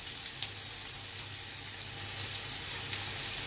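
Chicken pieces frying in hot oil with garlic, red chilli and onion for Tamil-style chicken and prawn noodles, giving a steady, even sizzle that grows slightly louder toward the end, with no voices.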